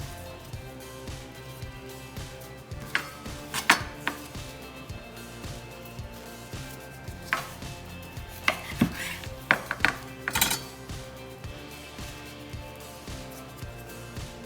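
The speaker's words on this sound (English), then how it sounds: "I'm gonna cut the cutlets" Knife chopping through breaded chicken cutlets on a cutting board while a chicken parm hero is assembled: steady rhythmic thuds with sharper crisp cuts in bursts, close and alone with no talking.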